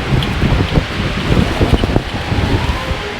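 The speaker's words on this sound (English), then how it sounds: "It's quite windy." Strong outdoor wind in Fraser Canyon buffets the microphone in a continuous loud rushing roar, with uneven gusty surges throughout.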